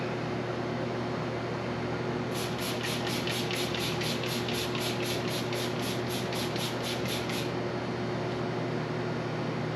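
A rapid series of short spray bursts from a pump bottle onto paint protection film on a 2024 Harley-Davidson Road Glide, pulsing evenly for several seconds over a steady background hum.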